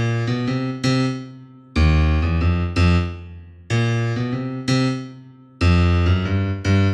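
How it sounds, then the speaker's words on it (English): Gospel-style blues piano left hand drives a propulsive riff of repeated low chords in steady bursts with sustained ringing between them, played alone at close range. "Today I'm going to teach you a new left-hand riff called left-hand propulsion."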